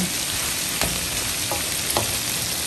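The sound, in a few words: stirring garlic shrimp frying in a pan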